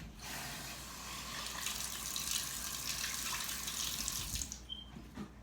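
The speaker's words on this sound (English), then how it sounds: "So we're going to wash those." Water runs steadily from a tap while carrots, onions and green peppers are washed in a sink. The flow is close and constant, then cuts off near the end.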